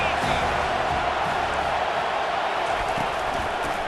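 Stadium crowd in College Football 25 during an Army at Notre Dame game: a steady, dense roar of massed voices with no breaks, loud and continuous throughout.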